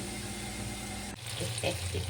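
Steady sizzling of flour-dusted fish frying in hot oil, a sudden cut and then louder crackling spatter, close by.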